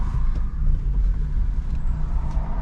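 Cars idling and creeping in a traffic jam on the Athi River road, a steady low engine rumble heard from inside a vehicle. No voices.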